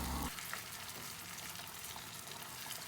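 Cabbage roll filling of rice simmers in grated tomato sauce with no added water, giving a soft, steady sizzle and bubbling, faint and continuous.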